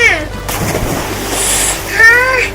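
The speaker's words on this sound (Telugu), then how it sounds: "నే ఇప్పుడు దూకపోతున్నాను" Someone jumps into a small pool filled with watermelon water, making a short splash and slosh, with people talking loudly before and after it.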